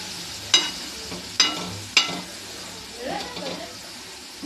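Dried fish (sukat) frying in a pan is stirred with a spatula, giving three sharp scraping strokes against the metal over a soft sizzle, followed by quieter shuffling; a voice speaks briefly in the background.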